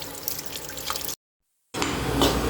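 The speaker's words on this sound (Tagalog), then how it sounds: "Hugasan ah, natin yung ating lettuce, cucumber, at ah, kamatis" Lettuce, cucumber and tomato being washed in water, a close splashing and dripping wash that cuts to silence briefly, then resumes with louder running water.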